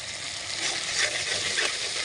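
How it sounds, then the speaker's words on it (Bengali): Spices with salt, turmeric and homemade chili flakes frying in a pan, a dense, steady hiss of sizzling oil, close and fairly loud, with faint stirring under it. "এখন একটু ভালো করে ভেজে নেব"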